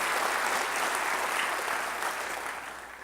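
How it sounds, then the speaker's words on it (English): Audience applause at a convention center event fills the room, a dense, steady clapping from a large crowd that holds loud and then slowly starts to fade. "Let's give them a big round of applause for their work."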